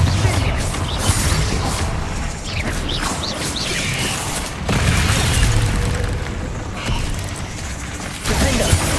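A Confringo explosive spell cast in Hogwarts Legacy bursts with loud booms and clattering, mechanical crunches, followed by more blasts over a dense, continuous game soundscape.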